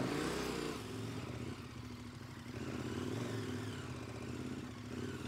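An adventure motorcycle ridden off-road at a training school, its engine droning steadily at a moderate distance with slight rises and falls in revs, heard alone without talk.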